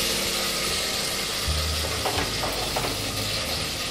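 Cumin seeds, garlic, curry leaves and green chili sautéing in hot oil for kollu (horse gram) rice, giving a steady, close crackling sizzle with a brief low rumble midway and no talk.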